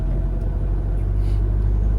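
A car accelerating on the road through the gears, a deep steady engine rumble with road noise filling the cabin, no talk over it.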